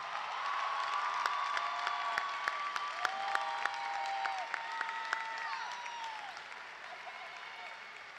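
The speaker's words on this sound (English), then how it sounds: "please join me in a round of applause for the Blue Key class of" Audience at the University of Toledo Songfest 2018 gives a round of applause for the Blue Key honor society class; full, steady clapping with a few sharp claps, scattered voices and cheers, fading slightly toward the end.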